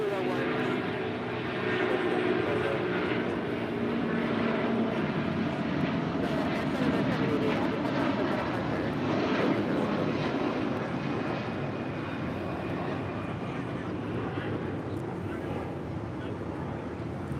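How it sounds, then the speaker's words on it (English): Departing from LAX, an Air Canada Airbus A330-300 jet roars steadily, its broad rumble swelling slightly then holding, with a thin engine tone and some wind buffeting on the microphone beneath intermittent talk. "That is Air Canada 788 Heavy departing to Toronto on an A330-300."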